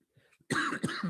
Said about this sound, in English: Let me get out of here, man. I'm coughing.